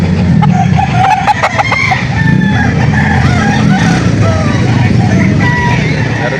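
Roosters (stags) crow repeatedly among clucking fowl at the Lipa chicken auction market, a loud, busy scene with a crowd murmuring and vehicles rumbling in the background.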